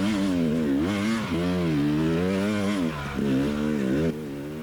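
An enduro motorcycle engine revs hard and steady while climbing a steep wall in a hard enduro race, a loud, close, continuous droning roar with rising and falling pitch and no voices.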